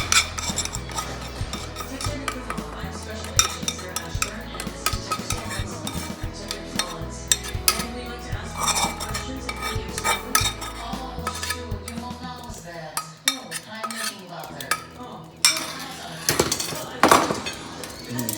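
Air-fried Asian-style chicken wings tossed with a thickened sauce in a bowl, giving close, wet stirring and scraping with frequent clinks and knocks of a utensil against the bowl, as a voice talks intermittently.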